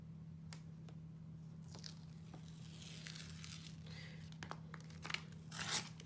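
Tape torn from a Tim Holtz tape cutter while making a mini album cover, giving a few quiet sharp rips and crinkles over a low steady hum, with a longer tearing burst near the end.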